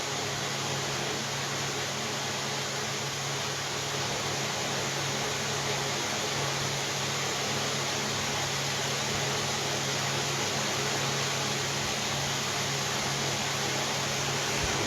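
An electric fan runs steadily, giving a constant broadband whoosh with a faint low hum underneath. It stays unchanged for about fifteen seconds, and no one speaks.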